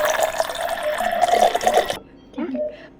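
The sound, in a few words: pouring water before adding Betadine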